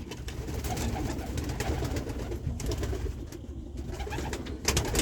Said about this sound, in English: We can go look at the young birds.